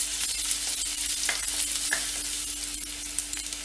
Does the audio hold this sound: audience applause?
no